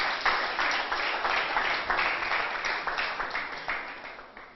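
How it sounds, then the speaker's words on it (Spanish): A church congregation breaks into sustained applause, a dense wash of many hands clapping steadily throughout, fairly close and fading slightly toward the end. "Un aplauso, ¿verdad?"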